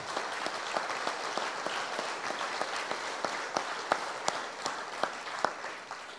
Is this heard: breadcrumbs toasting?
no